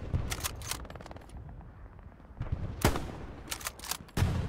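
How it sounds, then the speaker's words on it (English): Machine gun fire in a video game, with short rattling bursts and sharp single cracks scattered across a few seconds over a low rumbling background. "There's a machine gunner over there"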